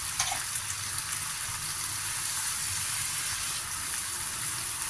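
Water poured into a hot frying pan while making Thai chicken rad na gives a steady, loud rushing sizzle and gush that holds evenly throughout without a break.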